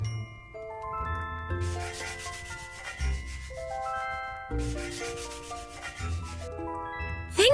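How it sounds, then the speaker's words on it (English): A greasy cooking pot is scrubbed in two long bursts of steady rubbing, set against light, tinkling background music. "This pot is used for cooking food. It's still very greasy, so let's give it a scrub."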